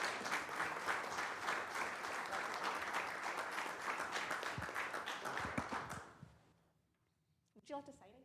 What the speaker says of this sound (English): Let's give her another great big round of applause.